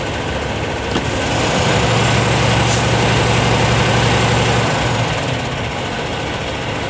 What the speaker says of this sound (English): After each 4-second snap, I'm waiting 9 seconds for the engine to wind back down